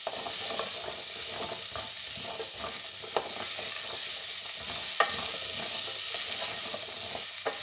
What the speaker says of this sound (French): Il faut mélanger pour éviter que ça colle, surtout dans une casserole